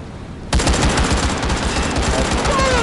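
Sustained, loud automatic gunfire in the VR shooter Firewall Zero Hour bursts in suddenly and keeps going as a dense rattle of rapid shots.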